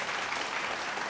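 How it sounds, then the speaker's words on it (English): Audience applause at a televised singing competition fills the whole moment, a dense, steady wash of many hands clapping close by with no voices above it. "big round of applause, please"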